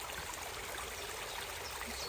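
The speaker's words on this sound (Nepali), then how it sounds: "कस्तो राम्रो सानो खोला" A small stream flows near Aira Force waterfall in the Lake District, a steady, soft rushing and trickling of water that runs on evenly without any voices.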